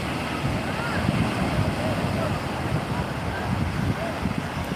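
Continuous roar of sea waves and surf with wind buffeting the microphone, a dense, unbroken wash of noise throughout.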